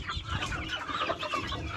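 Chickens cluck and mutter continuously at close range during poultry vaccination, with soft scattered handling noise.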